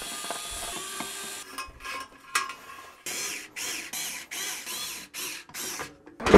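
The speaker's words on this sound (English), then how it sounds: "all we got to do is back out these screws and then screw that into this base" Screws being backed out of a VEVOR digital platform scale rated to 660 lb, heard as a string of short, close ratcheting bursts with brief pauses between them and no talking.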